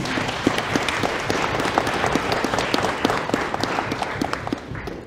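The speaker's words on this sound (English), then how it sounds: "round of applause for Josephine." An audience at a national Aboriginal moot gives a round of applause, with dense, sustained clapping from a crowd that holds steady for several seconds before tapering slightly.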